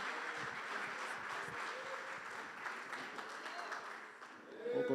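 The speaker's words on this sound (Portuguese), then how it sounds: "Aplauda, Senhor, com as suas palmas," A church congregation at an evangelical service applauds with continuous, moderately faint clapping that fills the whole clip, and a voice emerges near the end.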